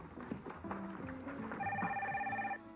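A telephone rings faintly in a Bell Atlantic caller ID TV commercial, its electronic trill sounding in one burst as voices talk underneath.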